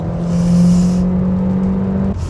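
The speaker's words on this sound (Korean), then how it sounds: "처음서부터 강한 힘을 좀 거칠게 드러낼 줄도 압니다. 가속합니다." A Hyundai Sonata Hybrid in sport mode accelerates hard, a loud close drone with a steady rising hum and whir that swells early and holds, then drops off abruptly near the end.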